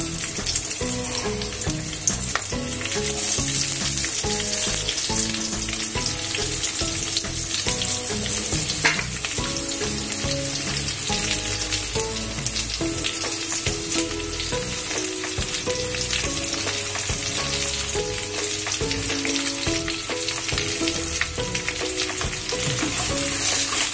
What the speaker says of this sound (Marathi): आता आपण कांदा छान परतून घेऊया